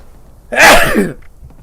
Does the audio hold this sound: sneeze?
yes